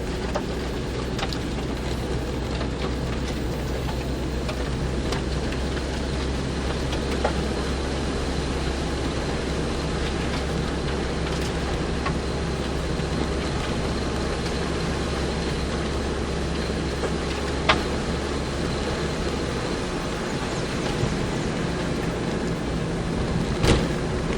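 A car drives along a road in Montserrat toward Brades and Cudjoe Head, a continuous loud engine and road rumble heard from inside the vehicle with occasional small bumps and clicks.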